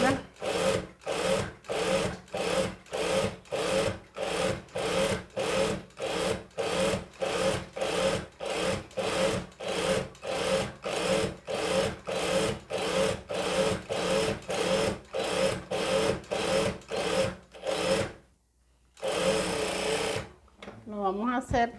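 A sewing machine stitches a seam on fabric for a crop top in steady rhythmic bursts of rapid needle chatter, each a second or so long with brief pauses, loud and close; someone talks between runs.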